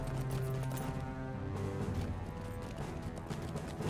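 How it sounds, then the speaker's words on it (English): Horse hooves in the Lord of the Rings Online game, with a fast continuous clip-clop of galloping running through a dense game soundscape, no voices. "Luckily, the horse can jump over this."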